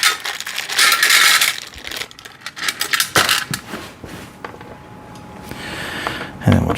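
Metal screws drop and clatter onto a small magnetic tray, several sharp jangling impacts in quick bursts close up, with some talk mixed in.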